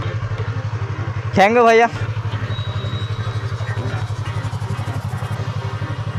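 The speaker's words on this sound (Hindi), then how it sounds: "तो बहुत ही मज़ा है R3 का साउंड, खतरनाक साउंड आ रहा है।" A Yamaha R3 motorcycle engine idles nearby with a steady, even pulsing throb, and someone briefly speaks partway through.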